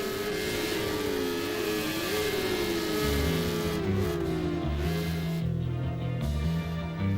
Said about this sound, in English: drivers, to your car, start your engines